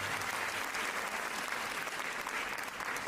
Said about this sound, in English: Should we clap for this team who are leading this work?